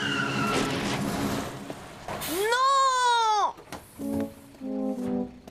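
A cartoon vehicle skids across a skateboard with a shrill, rising-and-falling tire squeal, preceded by rumbling motion and followed by short excited voiced exclamations.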